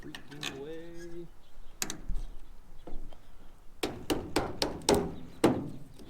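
Headlight being smacked into place on a Ford F150 during a headlight and grille replacement, a rapid series of sharp thuds and knocks following a short stretch of talk.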